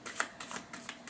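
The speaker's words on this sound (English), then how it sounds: "I'm just going to shuffle the cards to see" Tarot cards shuffled by hand in a few soft, papery riffling bursts, quiet and close, with no talking.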